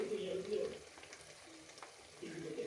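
Bitter gourd curry sizzling and frying in a pan, with a brief soft stirring scrape in the middle; the sizzle is moderate and close, swelling at the start and again at the end.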